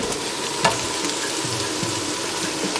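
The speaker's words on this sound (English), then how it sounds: "We're frying our garlic" Garlic and chili fry in a pan for an Afghan spinach dish, giving a steady, close sizzle with a few soft stirring knocks and no talking.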